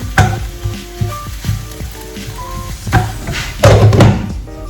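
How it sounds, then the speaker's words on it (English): Spinach wilts in a hot pan with a steady sizzle, broken by stirring and a few dull knocks of a utensil against the pan, close and fairly loud with no talking. "I have some spinach here. I'm gonna wait for it to cook down."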